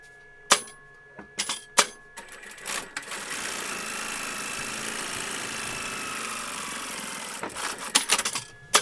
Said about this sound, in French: Ensuite, on va coudre le fond.